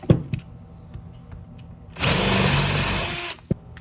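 A power drill drives a screw at an angle into the wooden base of a homemade bar-top pizza stand, running loudly and steadily for over a second after a few light knocks and handling sounds, then stopping with a tap.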